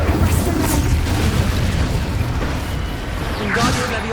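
A fire spell cast during Hogwarts Legacy gameplay: a sustained, loud roaring whoosh with low booming rumble throughout, flaring again near the end, set among busy combat noise.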